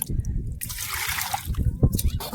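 Water is poured in a short, close splashing and trickling burst, partly covered by people talking nearby.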